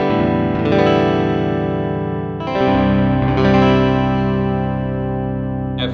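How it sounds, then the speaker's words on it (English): Guitar in open C tuning rings out in sustained, layered chords with a processed, chorused and slightly distorted tone, two strums several seconds apart each left to ring, loud and close with no talking. "The next tuning we have is an open C tuning."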